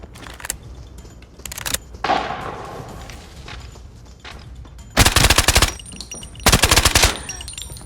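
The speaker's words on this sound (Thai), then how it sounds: "แหมยิงไม่โดนเลยนะ" Automatic gunfire in Arena Breakout: several sharp, loud bursts of rapid shots, with two long close-range strings near the end, separated by quieter stretches of movement and background noise.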